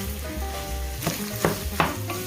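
A wooden spoon scrapes and breaks up sausage meat in a sizzling frying pan, with steady frying hiss and a few sharp knocks of the spoon against the pan.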